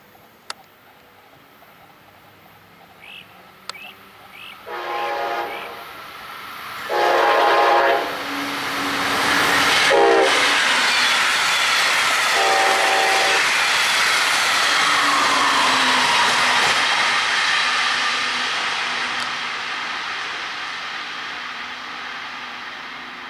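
A northbound Brightline train on the Florida East Coast line sounds its horn in four blasts, long, long, short, long, then roars past loudly with a sustained rush of wheels and wind that slowly fades.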